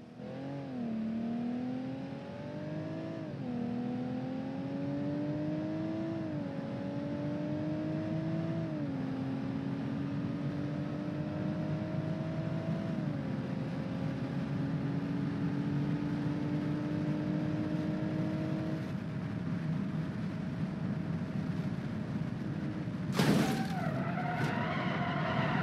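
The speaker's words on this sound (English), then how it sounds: "So now let's watch the car crash in real time." Car engine in the BeamNG.drive driving game, revving through a series of rising gear shifts with tire noise, then a brief sharp crash burst near the end before the engine drones on.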